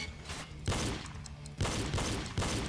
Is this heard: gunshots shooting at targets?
yes